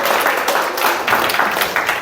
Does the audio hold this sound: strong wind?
no